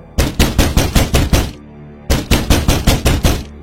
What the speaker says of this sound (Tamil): அப்ப கதவு தட்டுற சத்தம்.